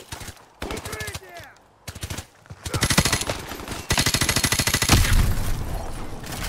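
Automatic gunfire in Modern Warfare Remastered, aimed at attack dogs: loud, close bursts of rapid shots, first short spurts with gaps, then long sustained streams, with a growling snarl early and a voice talking briefly between bursts.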